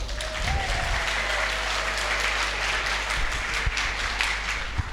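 A crowd claps steadily at a Saturday night choir show at a holiday resort, a dense even wash of applause with a faint tone lingering underneath early on.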